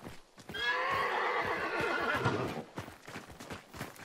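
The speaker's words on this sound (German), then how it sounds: "Das Pferdchen ist da." A horse in the video game Hunt: Showdown gives one long, loud whinny that rises and wavers for about two seconds, followed by softer snorts and a few clip-clop steps.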